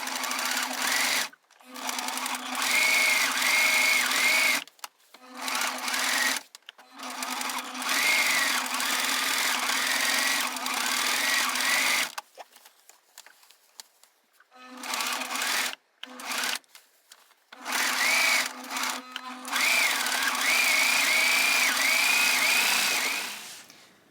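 A sewing machine stitching over a patch on jeans, whirring in fast bursts of rapid stitches separated by short stops and starts, loud and close, with brief clicks during the pauses.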